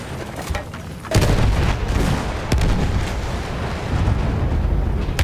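Enemy artillery fire in the World War I shooter Battlefield 1, heavy booming blasts and rumbling explosions over dense battlefield noise, a sharp crack near the start followed by sustained loud rolling thunder.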